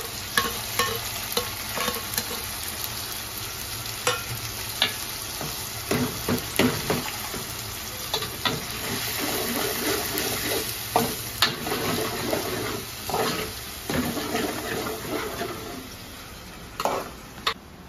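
Onion fries with ginger garlic paste and tomato paste in a pan while a spoon stirs it, a steady sizzle broken by repeated scraping strokes and clinks close up, with no voices.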